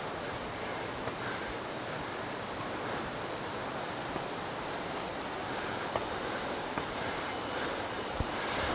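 Steady, full-band rush of falling water at a waterfall in northern Bali, loud and continuous with no breaks, a few faint clicks on top and no talking.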